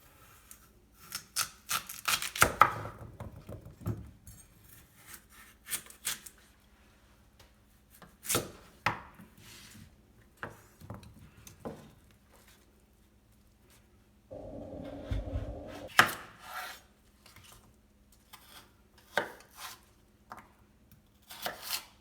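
A knife chops Korean radish into cubes for kkakdugi on a cutting board, with irregular bursts of close, crisp thuds and clacks separated by brief pauses and occasional scraping.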